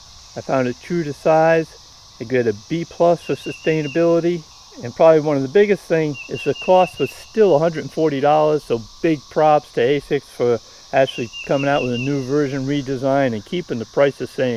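Periodical cicadas from the 13-year and 17-year broods drone in a steady high buzzing chorus in the background, running continuously beneath someone talking close up.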